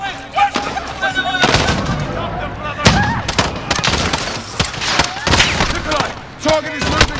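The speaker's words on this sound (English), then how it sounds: "The gunshot." Gunfire rings out in the Call of Duty Modern Warfare remake, with sharp bursts and scattered shots spread through a chaotic battle scene while voices shout and talk over the action.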